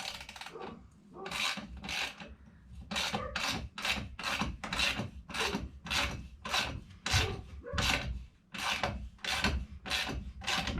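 Adjuster nuts on a Honda Grom's TST Industries chain adjuster are tightened with two wrenches, giving a close, rhythmic series of rasping ratchet-like strokes repeated steadily, about one per second.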